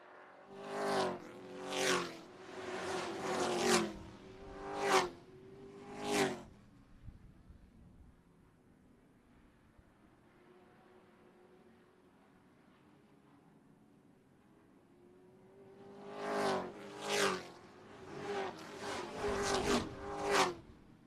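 Race trucks at Dells Raceway Park warming up before their first heat: engines roar past in rapid repeated bursts, fade to a distant hum through a quiet lull, then return with another string of loud passes close by.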